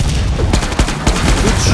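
Gunfire in the video game Killing Floor 2, rapid loud shots cracking in quick succession over a dense, noisy battle din, with a voice briefly shouting through it.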